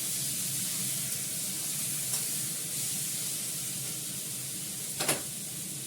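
Water poured into hot oil in a cooking pan gives a steady, close sizzling hiss with a couple of brief spits near the end.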